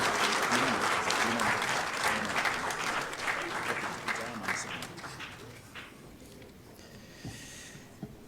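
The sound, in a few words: audience applauding His Royal Majesty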